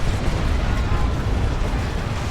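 Grenade explosion in a Dawn of War 2 Warhammer 40,000 battle, a heavy, rumbling blast with low booming roll that sustains loudly over about two seconds amid crackling combat noise.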